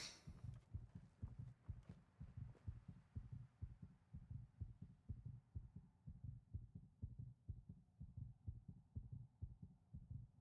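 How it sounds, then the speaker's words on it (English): A heartbeat sound effect from the video game Fallout 4 throbs in a steady, rhythmic double-thump pattern, low and muffled, repeating continuously throughout with a faint hum beneath. "By the way, sorry, Al, you have to hear the heartbeats again."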